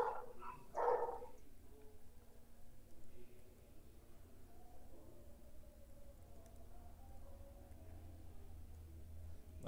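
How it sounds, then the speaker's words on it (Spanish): A puppy lets out a couple of quick, high yips near the start, then falls silent under a faint room hum and distant murmur. "Y por ahí silencia un poco a tu cachorro."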